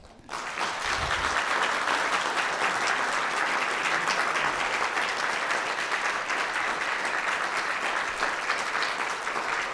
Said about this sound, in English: Let's have a first round of applause for that.